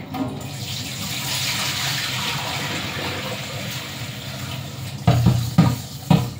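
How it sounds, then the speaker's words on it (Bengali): Rice is washed in water, heard first as a long, steady rush of pouring or running water. A few closer splashes and sloshes follow near the end. No one speaks. "এই যে এখন আমি চাউলটা ধুয়ে নিলাম"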